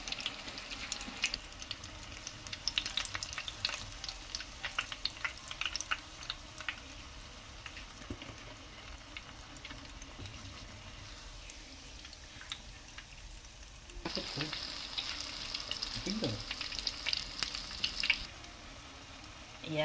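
Qatayef, an Arabic filled dessert, frying in a pan, with a soft continuous sizzle and scattered crackles up close that swell into a brighter, louder sizzle near the end, and no voices.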